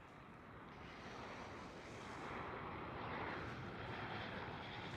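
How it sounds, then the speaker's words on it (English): A KLM Boeing 737-700 airliner at Schiphol gives a steady, loud roar of jet engines that swells slightly as it goes, with no talk over it. "First one up is KLM 737."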